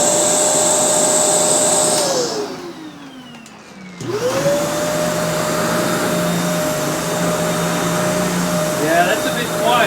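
A Kenmore Elite vacuum cleaner motor whines steadily up close, winds down and briefly drops away, then spins back up to a strong, even high-pitched hum that runs to the end.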